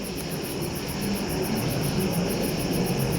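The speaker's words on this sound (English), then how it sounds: "That was a close flyby." Close flyby of an aircraft, heard as a steady broad rumbling drone with a droning, slightly pulsing tone above, sustained and fairly loud throughout without any talk.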